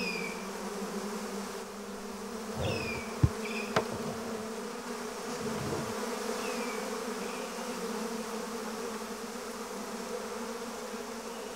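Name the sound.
feral honeybees buzzing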